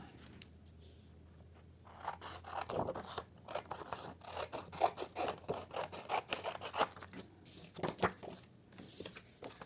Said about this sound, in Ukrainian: Ділимо олівцем навпіл і розрізаємо.